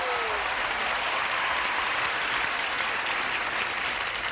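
Studio audience at a 1984 television game show claps steadily and loudly throughout, a dense, even wash of applause with no talk over it.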